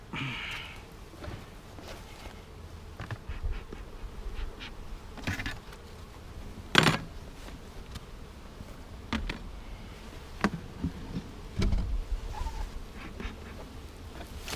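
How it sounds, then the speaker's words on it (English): Honey bees from a package bee colony buzz steadily around an opened hive, a continuous close insect drone with occasional louder passes and faint knocks from handling the hive. "this is our second package bee colony"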